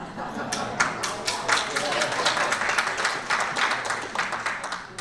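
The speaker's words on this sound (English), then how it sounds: "Can you all clap louder next time?" Audience clapping at a talk on dementia care, a dense, steady patter of many hands lasting throughout, with voices murmuring underneath.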